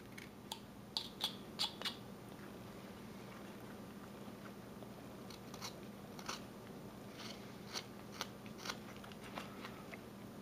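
A knife carves a wooden folk art rabbit in short, quiet crisp cuts and scrapes that come in scattered clusters over a low steady background hum.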